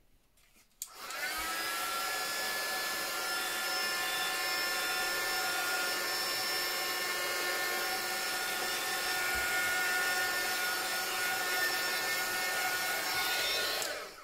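Hand-held hair dryer blowing steadily on fresh paint of a vintage mannequin collage, a loud continuous whirring roar with a high whine that starts abruptly after a moment of quiet and holds for the rest, alone without talk.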